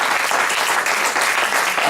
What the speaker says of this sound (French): just put your hands together